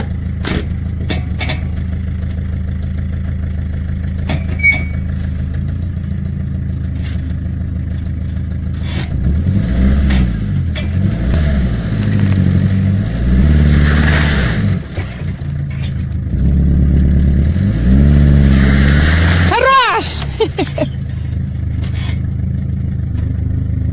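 A car engine idles, then revs hard in repeated surging bursts while straining to pull a tree stump out of the ground in a village yard, loud and close, with scraping and a final high whine, no talk.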